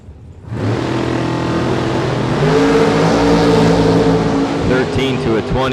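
Drag race cars launching, with the Mosier Engineering Chevrolet Camaro against Max Butcher: a loud, sustained engine roar that rises and holds as the cars accelerate, with an announcer talking over it.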